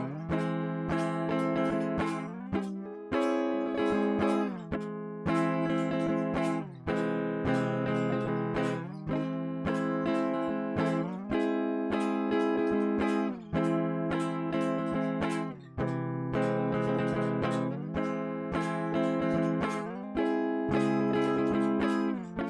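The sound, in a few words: guitar playing inside chords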